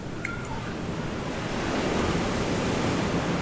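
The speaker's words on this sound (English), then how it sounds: "I don't want you to lose the ocean because you can hear it." Ocean surf breaking on a shore in the Dominican Republic, a steady broadband wash of waves that swells slightly louder partway through, with no speech.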